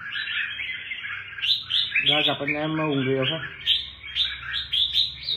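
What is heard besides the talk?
songbirds chirping at a home bird contest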